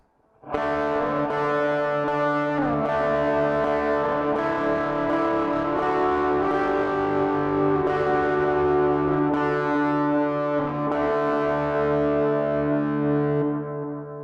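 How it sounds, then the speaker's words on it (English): An electric guitar with light overdrive plays a sustained lead line from a song, warm gritty notes ringing steadily over a held low drone for the full stretch, loud and continuous with no talking. "all the other times you play the turn, it's going to be with some overdrive, so with just kind of a light overdrive"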